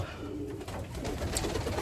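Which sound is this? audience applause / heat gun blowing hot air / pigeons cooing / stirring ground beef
pigeons cooing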